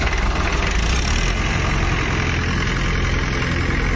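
A New Holland tractor engine idles nearby, a steady low rumble that runs the whole time with no one speaking.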